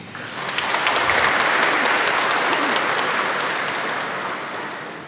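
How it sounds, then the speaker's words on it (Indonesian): Applause from a church congregation, a dense steady patter of many hands clapping that swells in after a moment, holds loud for several seconds and then begins to taper. "supaya tidak berakhir hanya tepuk tangan"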